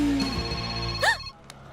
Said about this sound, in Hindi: घंटी बजी तो ये वाइब्रेट मोड पे क्यों चली गई?